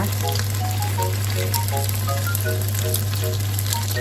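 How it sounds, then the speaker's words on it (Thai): Pasta with mushroom sauce and cheese stirred in a hot pan, a steady close sizzle with soft scraping, under a constant low electrical hum and faint background voices. "อ่าคนให้เข้ากันค่ะ"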